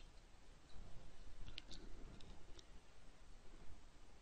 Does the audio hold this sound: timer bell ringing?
no